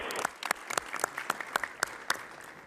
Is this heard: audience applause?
yes